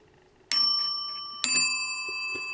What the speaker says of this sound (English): so I'd say they are two dissimilar bells, which is normal in telephones